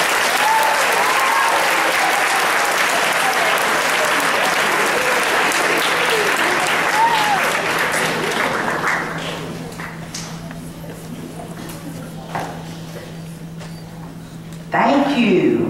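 Sustained audience applause at a school anti-bullying press conference, welcoming a state representative; strong, dense clapping for about nine seconds that then thins into scattered claps and room noise before a voice begins at the end.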